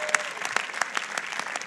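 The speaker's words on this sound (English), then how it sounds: "another round of applause for Zachary and his incredible national anthem" Audience applause at a university undergraduate commencement ceremony, a steady crowd clapping with dense overlapping claps throughout, moderately loud and sustained with no speech over it.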